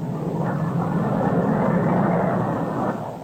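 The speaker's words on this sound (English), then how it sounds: "The first passenger jet clipper to fly the Atlantic." A passenger jet clipper airliner, the first jet clipper to fly the Atlantic, roars with a steady broad engine rush that holds constant before easing slightly at the end, loud and continuous with no voices.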